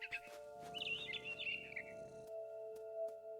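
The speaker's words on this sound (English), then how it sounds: "Then I heard chirping outside my window. A bird." A barn swallow chirps in the video game What Remains of Edith Finch, with a quick run of high, bright tweets that stop partway through, set against quiet sustained background tones.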